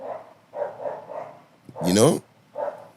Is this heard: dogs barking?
yes